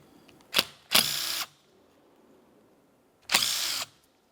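A power tool driving 11mm mounting bolts on a 1994-2002 Dodge Ram 2500 wiper motor, heard as three sharp close whirring bursts: a brief blip, a half-second run, then another half-second run after a pause.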